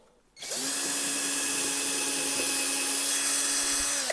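An electric drill boring into dense wood for table legs whines loudly and steadily at close range for several seconds, a constant high-pitched motor drone with no speech.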